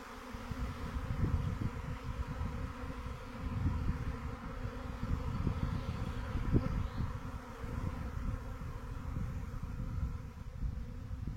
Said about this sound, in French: il y en a des milliers d'abeilles qui volent autour de nous